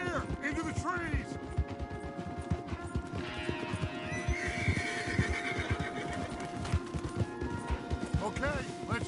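Horses galloping in Red Dead Redemption 2, a rapid, steady clip-clop of hooves on a forest trail with occasional whinnies and snorts, heard under ongoing talk with music in the background.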